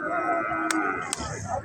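Cattle at a livestock market moo in long, loud, droning calls close by, with a couple of sharp clicks and faint background crowd noise.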